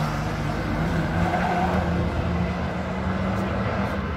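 A Mazda 3 race car at a Pittsworth sprint event holds a steady engine drone with a constant tonal hum, moderately loud and continuous, while a commentator talks over it.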